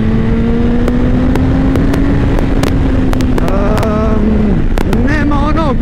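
Kawasaki Ninja ZX9R 2003 motorcycle engine revving loudly and close, pitch climbing and then dropping and rising again, with wind buffeting throughout.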